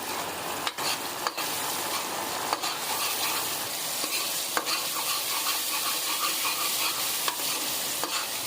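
Tomatoes frying in a pan over medium heat with egg and chana dal, a steady dense sizzle and crackle with occasional sharp stirring scrapes, close and continuous with no talking.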